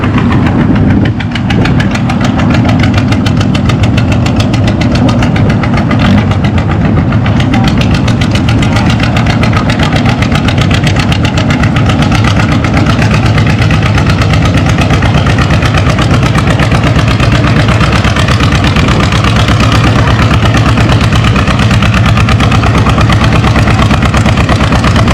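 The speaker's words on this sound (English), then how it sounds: "on the John Deere D, which is the local tractor to us" A John Deere D tractor engine at a tractor pull, pulling 5,500 pounds at 4 mile an hour, gives a loud, close, steady pulsing throb that runs unbroken throughout with no talking over it.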